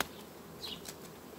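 Honeybees from a swarm colony that returned to its hive buzz close by, a soft, steady drone with one or two individual bees passing near.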